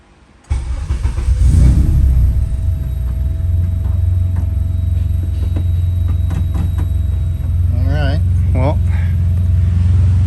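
A Honda EG hatchback engine idles steadily with a low rumbling drone, close by, with a few faint chirping squeaks near the end.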